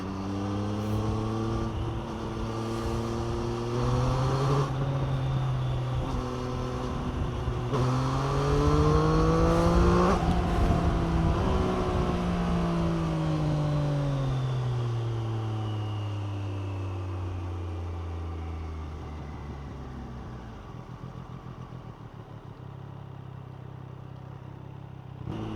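A 2023 Triumph Street Triple RS motorcycle being ridden, its engine note rising and falling through the gears as it revs and accelerates, then easing off, loud and continuous throughout.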